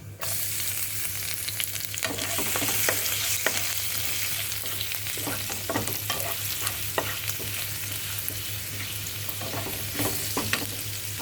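Garlic hits hot oil already crackling with cumin seeds, dried red chillies and asafoetida. It gives a steady, close sizzle with scattered stirring scrapes and pops throughout, with no voices.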